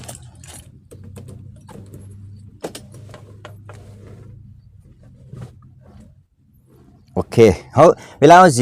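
Keys jangle in light, scattered bursts while someone hunts for the car key, over a low steady hum; a voice speaks loudly near the end.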